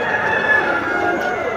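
Roosters crow loudly and close by at a Friday bird market in Mecca, one drawn-out crow filling the moment amid clucking poultry and market bustle.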